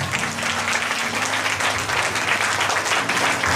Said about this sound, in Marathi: टाळ्या वाजवून प्रभूला धन्यवाद द्या